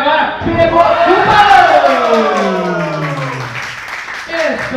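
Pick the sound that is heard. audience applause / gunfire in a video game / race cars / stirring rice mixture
audience applause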